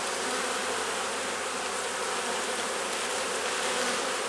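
Honey bees swarm thickly over a brood frame pulled from a strong walk-away split hive, their dense, steady buzzing filling the air close up and unbroken, with no voices.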